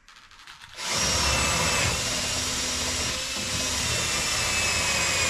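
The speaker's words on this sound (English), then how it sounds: "Oh, look at that, I actually got a sharp drill bit this time." A power drill with a sharp bit whines loudly and steadily for about four and a half seconds after a brief quieter start, drilling during a semi tiny home cooktop install.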